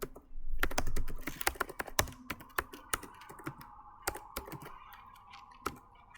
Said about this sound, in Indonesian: Di HID kita ketik show master status.